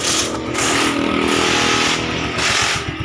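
A Suzuki Gixxer 150 motorcycle, its cylinder head replaced, idling after a kick start: a loud, close, steady engine drone with a rhythmic clattering pulse and slight rises in revs, with no talk.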